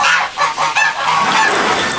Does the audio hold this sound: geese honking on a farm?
yes